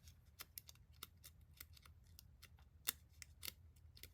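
Scissors snipping many quick little cuts into craft material for a broom-like texture on a Halloween gnome embellishment, a steady scatter of crisp, close snips that are fairly quiet, with no talking.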